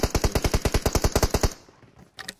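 Rapid automatic gunfire in PUBG Mobile, about a dozen close, loud shots in an even burst lasting over a second, then a short pause and a brief trailing crack, with no talk.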